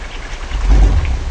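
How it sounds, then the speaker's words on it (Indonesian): Heavy rain pours steadily at a shelter while a kolecer pinwheel toy is flown outside, a dense broadband hiss swelling briefly louder with a low rumble, with no voices. "Duh, hujan atuh udah gede ah."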